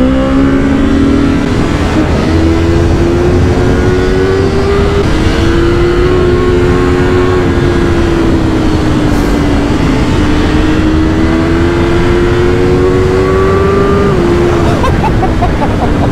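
A BMW S1000R motorcycle engine pulls steadily, its pitch rising and falling as it accelerates through gears, loud and close over constant road and wind noise.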